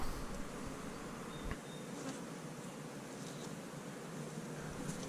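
A dense, steady hum of many honey bees buzzing together close by while festooning and building comb, with individual insects occasionally flying past.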